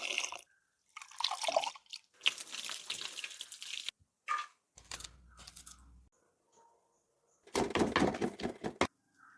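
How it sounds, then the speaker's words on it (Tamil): Freshly picked garden spinach leaves are rinsed in water, giving bursts of splashing and dripping separated by quiet pauses, close by. "நல்ல வடிவாக கழுவி எடுப்போம்."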